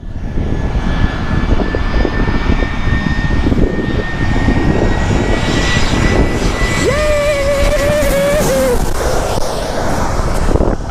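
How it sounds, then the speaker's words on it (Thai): A large airliner comes in low over the beach to land at Phuket airport, its loud, steady engine roar filling the scene with wind buffeting the microphone and surf in the background. "เครื่องบินมาแล้วครับทุกคน"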